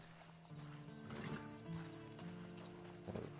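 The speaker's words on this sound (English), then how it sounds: "And you better get on this horse." A horse in Red Dead Redemption 2 neighs and snorts close up, with brief hoof clops and faint game background sound around it.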